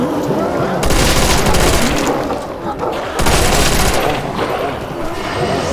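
Ray gun fire in World at War Zombies, heard as dense, loud bursts of rapid blasts and booms that come in two long volleys with a brief lull between them. A voice speaks over the shooting.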